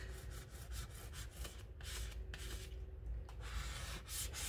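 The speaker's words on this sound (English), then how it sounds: "rub it both ways to make sure that it's lifting that vinyl up" A scraper rubs adhesive vinyl onto a water bottle with a continuous, close, rhythmic scratchy rasping, back-and-forth strokes repeating throughout.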